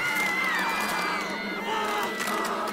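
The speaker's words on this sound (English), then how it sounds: "the crowd around her became louder. It started whistling and roaring." Crowd whistling and roaring in the video game Tiny Bunny, a loud, continuous mass of shouting voices with shrill whistles cutting through, sustained and close throughout.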